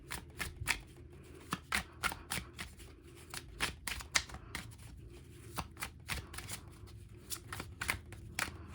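Affirmation cards are shuffled by hand for a reading: quiet, irregular bursts of crisp riffling and slapping, close and soft, repeating through the stretch with no talking.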